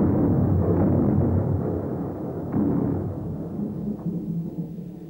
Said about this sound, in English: This is the supernova explosion